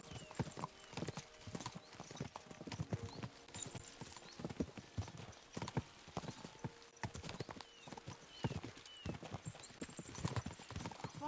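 Horses gallop in a video game, a dense, continuous clip-clop of hooves close by with an occasional whinny and faint voices underneath.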